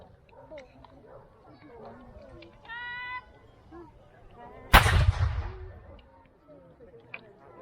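A single loud cannon boom erupts midway and rolls away, with voices and a barking dog scattered around it outdoors at a jousting tournament at Bolsover Castle.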